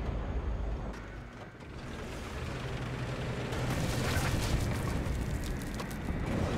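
A deep rumbling blast and rolling roar from a rocket explosion in War Thunder tank combat, swelling into a sustained low boom with hissing debris that lingers for several seconds, moderately loud and distant.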